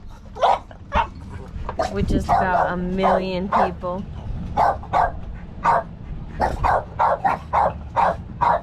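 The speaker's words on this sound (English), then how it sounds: "We have 2 dogs in timeout because they were barking at everything." Several dogs bark and yip in short, repeated bursts at a lakeside party with a pontoon boat nearby, the barks close and loud, interrupted briefly by someone talking.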